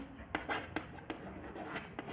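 Chalk or marker taps and scratches on a classroom board during a physics lesson, a series of short, quiet strokes in an uneven rhythm.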